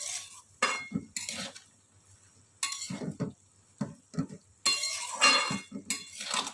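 Potatoes and yardlong beans with green chillies and salt being stirred together in a pan, giving close, irregular bursts of utensil scraping and clinking against the metal with short pauses between them.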